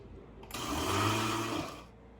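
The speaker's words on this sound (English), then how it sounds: "I'm gonna get these blended up, and you probably don't wanna hear this" A blender whirs loudly for about a second and a half, a steady motor roar with grinding texture, then cuts off.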